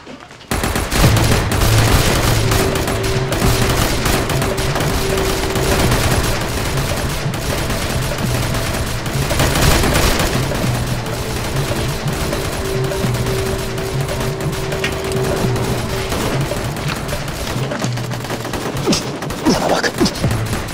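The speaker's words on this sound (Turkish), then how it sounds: "destek atış" Sustained bursts of automatic gunfire as covering fire in a dramatic shootout, loud and dense rattling volleys continuing almost without pause for about twenty seconds, with faint shouting mixed in.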